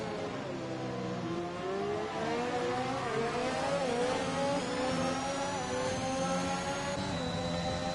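Race cars running side by side at the Bahrain circuit, a steady whining engine drone with rising and falling pitch sweeps as they accelerate, heard continuously and without talk.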